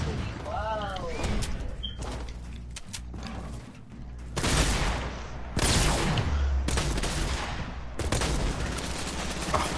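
Video game gunfire from a compact SMG and miniguns, heard as dense bursts of automatic fire and heavy sustained rattling in several loud, close stretches, along with game sound effects and bits of voice.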